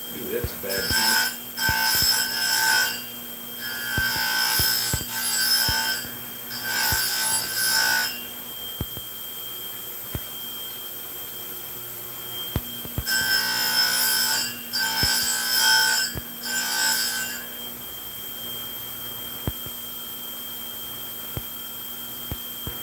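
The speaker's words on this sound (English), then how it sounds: "it's a thing that beeps, and it's like a staticky sound. So it's an ultrasonic cleaner." A steady electronic buzz hums throughout, broken by two long stretches of harsh, staticky pulsing bursts from a small ultrasonic cleaner.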